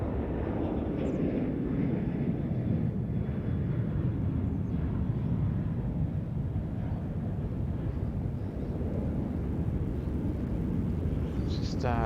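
A fixed-wing airliner roars at Sydney Airport during a busy morning rush, a broad steady low rumble of jet engines carrying throughout with wind buffeting the microphone and no clear talk.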